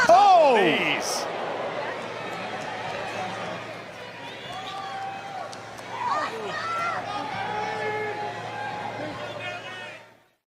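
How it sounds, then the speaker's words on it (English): A jam-packed wrestling crowd at Climate Pledge Arena in Seattle roars in a dense, continuous wash of cheering and chatter, loudest at the start and swelling again midway, with a commentator's voice over it. "Jam-packed crowd in Seattle, Washington tonight at the Climate Pledge Arena."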